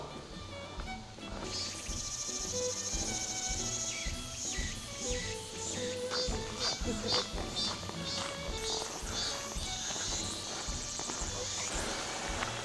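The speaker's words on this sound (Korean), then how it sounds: "풀벌레 우는 소리, 그리고 매미 소리, 계곡 소리" Grass insects and cicadas buzzing and chirping in a summer valley alongside a flowing stream, a dense continuous layer of chirps and rushing water with scattered bird calls and footsteps.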